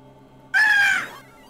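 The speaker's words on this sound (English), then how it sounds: "That scream. That's painful to hear." A character's shrill, harsh scream from the retro arcade game Metal Slug 2, a single loud cry of about half a second that starts abruptly and tails off, heard alone.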